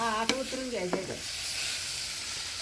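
Oil-fried ingredients for a lemon-chili recipe sizzle in a pan, a steady hiss heard after a brief bit of speech at the start.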